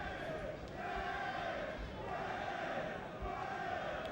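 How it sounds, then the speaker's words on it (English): Boxing arena crowd chanting rhythmically in support of Michael Jennings during a bout with Kell Brook, a distant, fairly quiet chant with repeating swells. "Crowd try and get behind Jennings"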